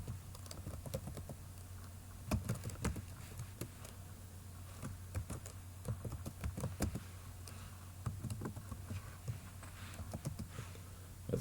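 Keys click quietly on a computer keyboard as a username is typed in, irregular taps and short bursts over a soft background hum, with no one talking.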